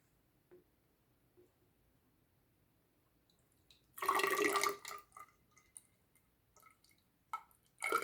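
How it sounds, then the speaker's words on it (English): Water is poured into a glass graduated cylinder to measure 50 milliliters, a short burst of splashing and trickling, then scattered drips and small liquid sounds in an otherwise quiet room. "now we are going to measure out 50 milliliters of water"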